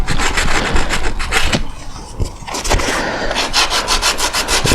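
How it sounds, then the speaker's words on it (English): A non-scratching dish sponge scrubs old silicone off the left engine cover of a 1974 Yamaha TY250A, with loud, rapid back-and-forth rubbing strokes in a steady rhythm, close up and with a short pause midway. "This is the non-scratching kind of dish sponge."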